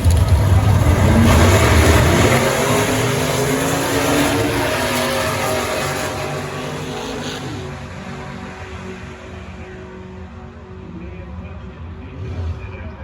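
A 1967 Pontiac Firebird drag car launches hard with the front wheels lifted at a Pontiac Nationals drag race, a loud, roaring engine blast that slowly fades as the car pulls away, with crowd noise and talk around it.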